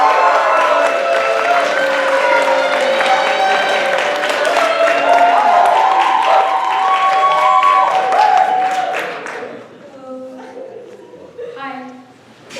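Comedy-club audience at a stand-up show bursts into sustained applause and cheering for the comedian Simon, loud and dense for several seconds before fading out as a voice begins speaking.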